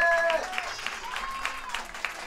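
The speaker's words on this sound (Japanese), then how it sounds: "G2 の皆さんに大きな拍手をお願いします" Audience applause at a live stage event after a guest group's performance, moderate clapping that swells and holds, with a brief voice at the start and faint talk underneath.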